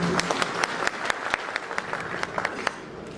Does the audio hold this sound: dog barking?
no